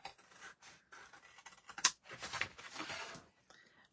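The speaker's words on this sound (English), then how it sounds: "there's my big scissors. I'm going to cut away just this little tab to the first score line." Big scissors cutting a small tab off a sheet of A3 card, giving several short crisp snips and scraping paper sounds close by, with a sharp cut near the middle.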